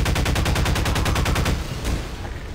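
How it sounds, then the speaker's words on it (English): A rapid burst of gunfire in Half-Life 2: Lost Coast, about a dozen loud evenly spaced shots in quick succession that stop abruptly, followed by a fading rumble, close and loud with no talk. "What was that random explosion?"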